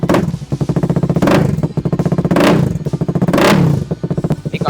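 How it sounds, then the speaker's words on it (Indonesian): KTM Duke 250 motorcycle with its exhaust fully opened, close and loud, revved in three or four sharp bursts that rise and fall between a choppy, lumpy idle. "Ini kalau misalnya knalpotnya dibuka plong, kayak gini nih suaranya nih, plong."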